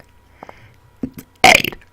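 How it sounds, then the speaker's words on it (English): A man burps while trying to shape a word, a few small throaty gulps followed by one loud, rasping belch with voiced, word-like modulation near the end. "I learned how to burp talk, a new word."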